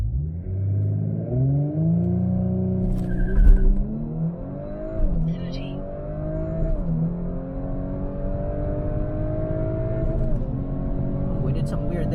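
Audi B9 S4 with a Stage 1 tune launching on a straight road with traction control off: a loud, continuous engine roar rising and dipping in pitch through revving and gear changes, heard close from inside the car, with voices talking over it.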